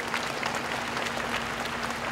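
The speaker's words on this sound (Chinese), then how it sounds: "请各位给毕业生代表热烈掌声" Audience applause for the graduate representative at Yuan Ze University's graduation ceremony: dense, even clapping from a large crowd in a hall, sustained at a steady level with a low hum underneath.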